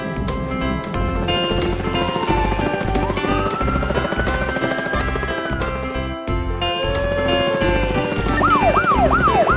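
An air ambulance siren from a kids' cartoon plays loud over a steady rumbling background, with a long gliding wail followed by quick repeated whoops near the end.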